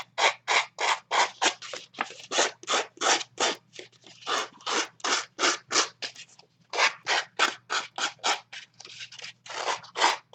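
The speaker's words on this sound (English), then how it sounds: "I do not have a fancy distress tool, so I use my scissors." Scissors scrape rhythmically along paper edges to distress them for card-making, a quick series of rasping strokes, about three a second, with brief pauses. Close and fairly quiet, with no talking.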